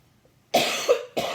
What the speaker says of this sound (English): this cough still lasts.